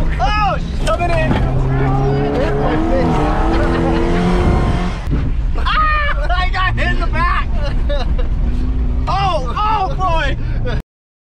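Race cars in a no-rules lemon derby, engines roaring loudly and continuously with squealing, revving tones over a crowd's babble and voices, a short dip near the middle before the racket resumes.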